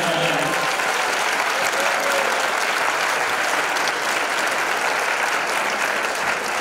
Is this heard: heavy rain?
no